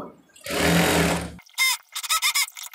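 A sewing machine stitches a single folded hem on the closed underside of a maxi dress sleeve, running in one steady buzzing burst, then stopping before several short, choppy bursts of stitching follow.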